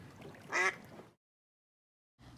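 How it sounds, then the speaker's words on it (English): Ducks quack loudly from the cattails of a marsh, a short burst of nasal calls over a faint outdoor background, followed by a brief silence and a soft rustle. "Loud quacks come from the cattails."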